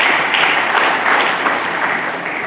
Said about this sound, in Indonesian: Berikan tepuk tangan bagi Yesus Kristus.